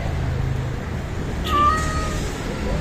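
A single short cat meow rises midway over a quiet, low background hum.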